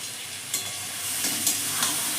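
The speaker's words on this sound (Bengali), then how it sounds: "এবার আমি বড়াগুলো এই মশলার মধ্যে দিয়ে কষিয়ে নেব।" Lentil fritters frying and being stirred into spice masala, a loud dense sizzle with a few brief spoon scrapes, close and without speech.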